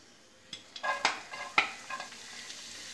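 Chopped onion is stirred in a hot pan for a paneer pizza, giving a faint sizzle with several sharp utensil scrapes and clinks against the pan over a few seconds.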